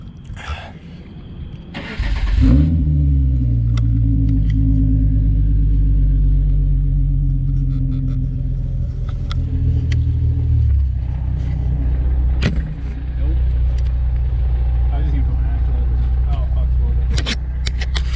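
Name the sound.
car engine starting and revving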